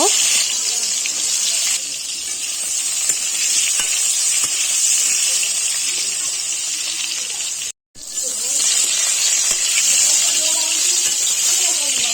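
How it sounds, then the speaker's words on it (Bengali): Pointed gourd (potol) pieces frying in hot mustard oil in a kadai give a loud, steady, close sizzling hiss that cuts out for a moment near the end, then resumes. "তেল গরম হয়ে গেছে এবারে পটলগুলো দিয়ে তেলের মধ্যে ভালো করে ভেজে নেব"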